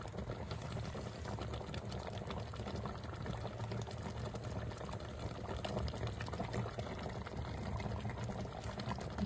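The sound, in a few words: lapsi pickle (achar) splattering while cooking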